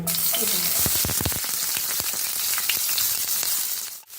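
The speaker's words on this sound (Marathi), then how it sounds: "तेल गरम झालेलं आहे. आता यात मी 2 मध्यम आकाराचे बारीक चिरून घेतलेले कांदे घालत आहे" Finely chopped onions, two medium ones, hit hot oil in a pan and sizzle loudly and steadily, with a few clatters as they go in, before fading abruptly at the end.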